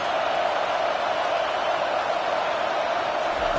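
A football stadium crowd roars steadily on a third down, a dense, continuous wash of cheering and noise holding at an even level throughout without pause.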